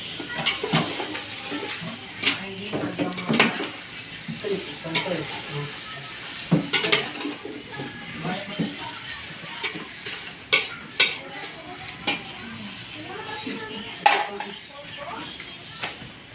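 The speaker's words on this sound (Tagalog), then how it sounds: "I-mix lang po natin sa pagkakagisa para lumasa." Pechay being stirred into sautéed dalag fish in a pan: a spatula scrapes and clacks in repeated strokes over a soft steady sizzle, close and moderately loud.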